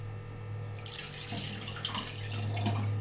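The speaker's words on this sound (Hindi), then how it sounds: "पानी डाल देंगे" Water is poured into a kadhai to make jaggery syrup, a steady close splashing trickle over a low background hum with no talking.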